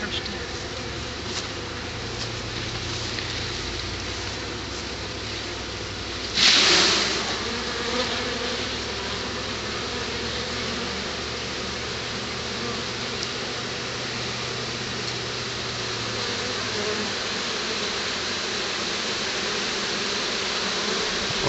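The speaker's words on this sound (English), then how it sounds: "the buzzing's really picking up. They're starting to fan really hard now." A large honey bee swarm of about four and a half pounds, in a home yard, makes a dense, steady droning buzz of wings fanning hard. A brief louder hiss rises near the start before the even hum continues.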